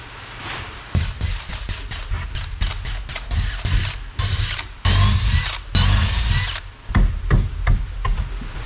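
A power drill whirs in repeated short bursts, then longer runs as it pre-drills a fastener hole into wooden blocking on a wooden boat, loud and close with brief pauses between.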